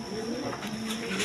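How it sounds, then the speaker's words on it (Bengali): A pair of American Lark pigeons coos up close, a low, steady cooing that holds through the whole short stretch under faint background hiss. "এখানে এক পেয়ার কবুতর আছে হাই ফ্লাইং, না সরি, এটা হলো আমেরিকান লার্ক কবুতর বলে"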